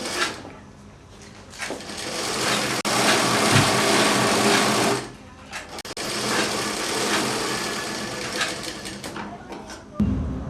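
Sewing machine stitching a border onto a katori blouse in a boutique, running in two long continuous bursts with a brief pause between, loud and close.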